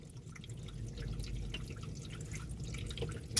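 A hose sprays water steadily along the trunk seam of an Audi A5 during a leak test. It makes a continuous hiss with faint dripping, close and fairly quiet, and there is no talking.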